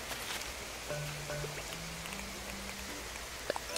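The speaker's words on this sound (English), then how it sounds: "It's raining." Rain falls in Animal Crossing: New Horizons as a soft, even hiss of game rain, with faint pitched tones drifting beneath it and a couple of brief taps near the end.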